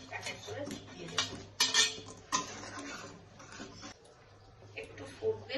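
A pot lid lifts and fish roe fritters go one by one into a simmering curry, making irregular metallic clinks and knocks with soft thuds between, while a voice talks over them.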